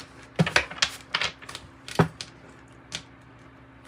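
A deck of tarot cards being cut by hand, giving a handful of crisp, close papery slaps and riffles at irregular intervals, heard alone with no talking.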